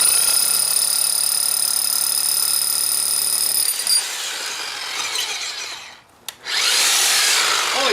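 Powered drilling rig with a fresh bit boring through a branch, a loud steady high whine that drops out briefly near the end and then resumes.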